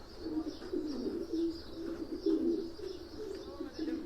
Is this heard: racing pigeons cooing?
yes